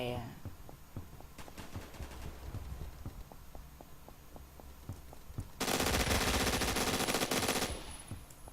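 Gunfire from Roblox Phantom Forces: a rapid string of single shots, then a loud, dense burst of automatic fire near the end.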